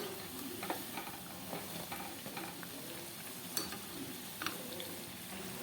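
Food frying in a pan, freshly flipped, gives a soft, steady sizzle with faint stirring ticks and crackles, quiet and close, with no talking.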